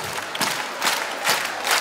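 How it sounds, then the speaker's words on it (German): An outdoor schlager concert crowd at Bremen Ole 2014 claps along in time, loud rhythmic bursts of many hands landing roughly every half second over a lively crowd murmur. "Alle die Hände in die Höhe und wir klatschen im Takt ab"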